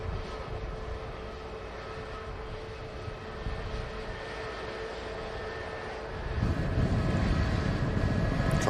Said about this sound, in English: Ryanair just arriving in. From Lanzarote